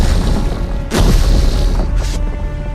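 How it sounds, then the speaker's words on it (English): A booming explosion effect of rock and limestone bursting out of a cavern wall during a tabletop game, a loud crashing burst followed by a second blast over steady rumbling noise. "right next to Ted, right next to Ted, an explosion of rock and limestone"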